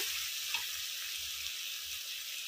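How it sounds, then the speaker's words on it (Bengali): Spice masala sautéing with salt in hot oil for a katla fish kalia gives a steady, close, even sizzle and crackle that runs through the whole stretch with no voices. "স্বাদ মতো নুন দিয়ে মশলাটাকে কষিয়ে নিচ্ছি।"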